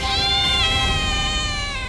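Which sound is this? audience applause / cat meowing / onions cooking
cat meowing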